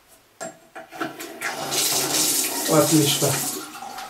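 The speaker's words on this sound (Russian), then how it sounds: "Вода с этого крана." Water runs from a repaired household tap with a newly fitted valve cartridge, starting after a few handling clicks and becoming a steady, close, broad rushing hiss; someone speaks briefly.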